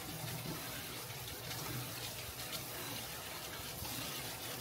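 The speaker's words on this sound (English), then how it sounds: "Gonna wash the noodles." Noodles being washed under running tap water, a steady broadband rush of water throughout, fairly close and continuous with no talking.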